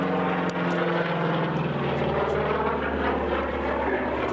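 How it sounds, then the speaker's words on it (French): A small airplane with an American turboprop engine flies at an air show at Saint André de l'Eure in 1994. It holds a loud, steady propeller drone for several seconds without any talking. "un avion qui n'est finalement pas très bruyant"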